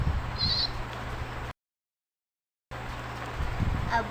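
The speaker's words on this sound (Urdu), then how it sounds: "ابو ہر سال قربانی کے لیے ایک پیارا سا بکرا لاتے کیونکہ احمد کو تو بکرے ہی پسند تھے۔" A sacrificial goat for Eid bleats once, short and fairly close, over a low outdoor rumble, with a cut to silence in the middle before the ambience returns.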